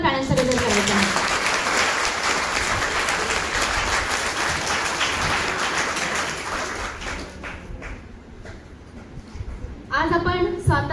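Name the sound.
audience applause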